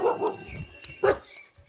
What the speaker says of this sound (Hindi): किस किस किस पे भौंक रहा है?